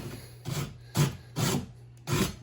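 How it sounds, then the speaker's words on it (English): Loose bits scraped off around a hole in drywall, four rhythmic rasping strokes close up with brief gaps between them, no voices. "you want to scrape off all the loose bits off around it"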